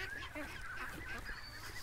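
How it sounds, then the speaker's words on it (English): Waterfowl calling on a swampy creek, a steady stream of honking, goose-like calls overlapping at mid distance with continuous background noise and no talk. "the ducks are just coming back now"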